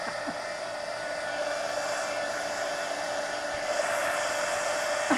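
A hair dryer blowing on a coloring book page, giving a steady airy whoosh at moderate level that holds constant throughout, with no talking.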